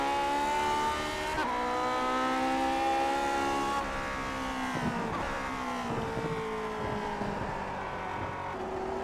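A race car on a lap of the Imola circuit, its engine droning steadily and loud close up as it accelerates out of a second-gear corner, with pitch shifts as it works through the revs.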